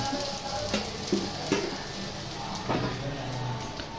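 Ghavane, a thin rice crepe batter from the Konkan, sizzling on a hot pan in an old tiled-roof home kitchen, a continuous close crackling hiss with a few light scraping knocks and no voices.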